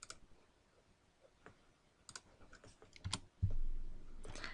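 Keys clatter on a computer keyboard as a UCS command is typed into AutoCAD, a scatter of quiet, close clicks followed by a steadier low hum toward the end.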